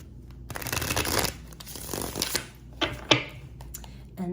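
Tarot cards are shuffled close up in quick riffling bursts, several rustling flurries separated by short pauses and a few sharp taps as the deck is squared.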